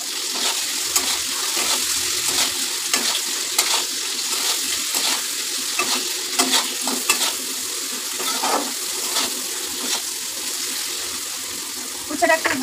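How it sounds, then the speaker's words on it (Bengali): Sliced bitter gourd fries in a pan with salt, a steady close sizzle under intermittent stirring scrapes, with some talk in the background. "উচ্ছেটা একটু ভাজা ভাজা হয়ে যাক হালকা,"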